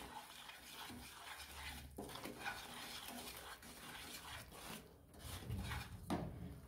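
A spoon stirs melted jaggery and ghee in a pan for chikki, giving a steady soft scraping and rubbing close up with occasional heavier strokes, no talking.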